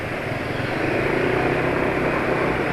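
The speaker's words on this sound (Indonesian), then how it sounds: "Tapi ini suara mesin halus," A car engine running smoothly on Caltex Delo Sport 15W40 oil gives a steady, dense broadband hum and rumble, loud and close, with no talk.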